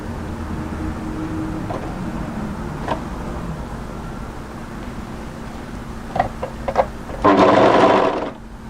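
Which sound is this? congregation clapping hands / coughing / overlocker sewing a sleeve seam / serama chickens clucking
overlocker sewing a sleeve seam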